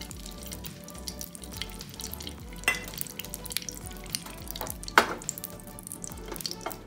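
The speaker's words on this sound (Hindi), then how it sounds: "अब हम गैस को ऑन करके उसमें अपना घी डाल देंगे।" Ghee heating in a pan on a gas stove, with a faint steady background sizzle broken by two sharp utensil clinks.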